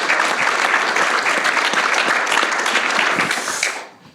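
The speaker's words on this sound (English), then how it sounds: "Let's give this guy a round of applause for running a great system here." A conference audience breaks into sustained, dense applause, loud and steady with many hands clapping at once, then tapers off quickly near the end.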